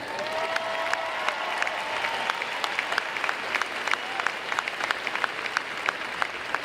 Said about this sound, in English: students, I think they deserve a round of applause.